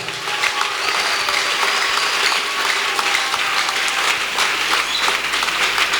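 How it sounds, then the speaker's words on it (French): Church congregation at a Sunday worship service applauds and acclaims the king of kings, a dense, steady wash of clapping that fills the space loud and continuous throughout, with no voices standing out. "On acclame d'abord le roi des rois."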